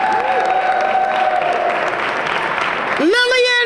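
Applause at a women's awards ceremony in Jersey City, a steady crowd clapping sustained throughout, loud and fairly close, with a voice talking over it near the start and again at the end.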